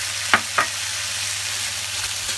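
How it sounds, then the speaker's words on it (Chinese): Cold rice hits a hot wok for kimchi fried rice, giving a steady soft sizzle with two sharp scraping stir strokes early on, close and moderately quiet, with no talking. "快啲，系啦，炒， 加入冷饭"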